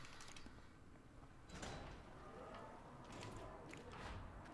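A door opening in Resident Evil Revelations 2, a grinding mechanical slide with scraping and clanks over a few seconds, heard alone with no talking.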